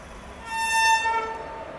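Haripriya Express train horn sounding as the train runs, a sustained multi-tone blast swelling in the middle over a low rumble of rolling rail noise.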